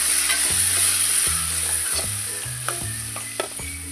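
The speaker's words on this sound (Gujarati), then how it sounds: "હવે આમાં છે ને આપણે પાણી રેડી દેવું એક ચમચો" Water poured into frying vegetables for a Gujarati dambha shaak, giving a loud, steady sizzle with repeated stirring scrapes and clinks close by, no voices.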